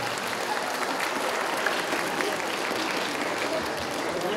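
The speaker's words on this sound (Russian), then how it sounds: "А где аплодисменты, друзья мои?" An audience at a youth music showcase in Molodechno applauds a young violinist, a steady, full burst of many hands clapping from start to finish.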